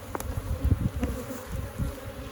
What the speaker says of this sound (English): I want to shake some bees off of it.